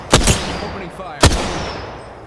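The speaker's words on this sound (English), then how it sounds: "Opening fire." Gunfire in the video game Apex Legends, with a quick burst of two loud shots followed by a single shot about a second later, each leaving a short echoing tail.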